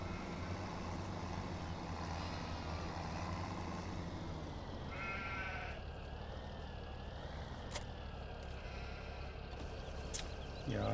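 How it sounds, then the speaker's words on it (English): Sheep bleat a few times in Farming Simulator 17 over a steady engine drone, with a brief wavering call partway through. "Give the sheep some water."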